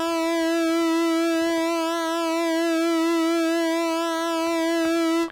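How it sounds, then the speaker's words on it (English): Polymoog 203a synthesizer oscillators with independently set frequency modulation, a bright, steady sustained tone rich in harmonics, wavering slightly in pitch for about five seconds before cutting off, played alone. "the frequency modulation are completely independent from each other, and that's really what makes the Polymoog sound so"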